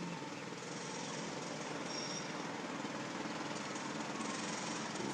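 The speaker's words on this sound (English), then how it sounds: "This is the sound of the people working on construction." Construction work outside with a jackhammer pounding in a steady, rapid, continuous rattle, heard at a moderate distance under a broad wash of outdoor noise, with no talking.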